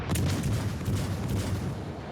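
Heavy ship guns fire in a naval combat video game, a dense rolling boom that fills the short stretch with sustained low rumble and no talk over it.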